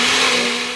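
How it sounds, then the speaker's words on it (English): A blender whirs steadily as it purées yogurt with chili powder and garam masala for a vegetable kofta curry, a loud, continuous motor drone with no voices. "So I'm gonna blend this."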